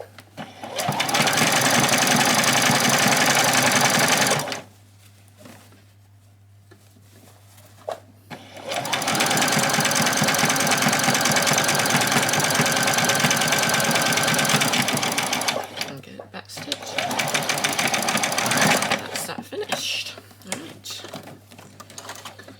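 A sewing machine runs a zigzag stitch on a doll's dress in three long, loud, rapid bursts, with short pauses where the fabric is turned, close to the mic.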